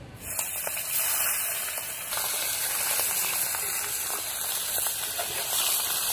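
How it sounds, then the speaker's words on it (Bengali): A continuous loud hiss and spitting crackle of pomfret frying in hot oil, steady throughout with no voices. "এবার পমফ্রেট মাছটা ভেজে নিব"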